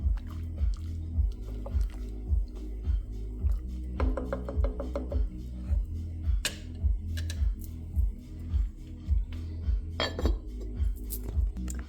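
A spoon stirs hot cocoa in a pot, knocking against the sides in a steady, regular rhythm of soft clinks and taps, close and moderately loud.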